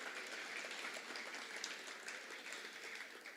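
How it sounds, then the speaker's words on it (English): A crowd gives a round of applause at a benefit celebration, a dense, continuous clatter of many hands that holds steady at moderate loudness from start to finish. "Give her a round of applause"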